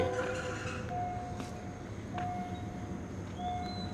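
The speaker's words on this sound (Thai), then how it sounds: "ตอนนี้รถไฟกำลังมาจาก" A train approaching Bang Bon stop on the line from Mahachai, heard outdoors with a faint rumble under wind, broken by several brief high tonal whistle-like squeals from the rails or horn spread across the span.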